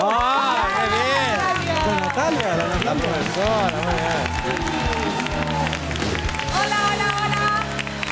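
A crowd applauds and cheers the new voice teacher at a talent school, steady loud clapping throughout with excited voices calling out over it.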